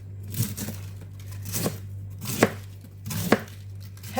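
A knife chopping through a vegetable for kimchi, four distinct thuds onto a cutting board spaced roughly a second apart, close and clear over a low steady hum.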